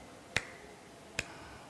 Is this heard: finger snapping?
yes